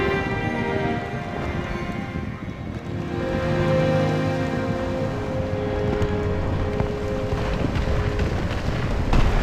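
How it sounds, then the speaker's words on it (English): Steady rain in the video game Sky: Children of the Light, a continuous hiss of falling drops with a windy rush beneath, heard alone at an even, fairly loud level throughout. "And doing this will stop the rain."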